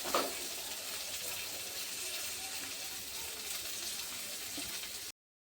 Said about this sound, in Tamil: நல்லா வதக்கணும் ஃப்ரெண்ட்ஸ்.